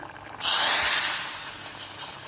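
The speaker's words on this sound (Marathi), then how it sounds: "फोडणी टाकली" Hot oil tempering is poured into amaranth leaf curry, bursting into a loud, close sizzling hiss that starts abruptly and slowly settles, no voices.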